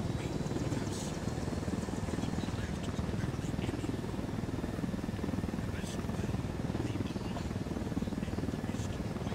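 A helicopter in Ghost Recon Wildlands flies with a steady, fairly quiet rotor drone that holds throughout, with faint game sounds over it.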